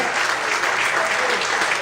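Dense, even applause from a church congregation during a morning service, loud and continuous throughout, with no break or swell.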